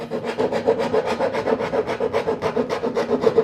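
A saw cuts wood in a zigzag to trim leftover edges while shaping a round piece in a workshop. It makes a steady, rhythmic rasping stroke after stroke, close and continuous.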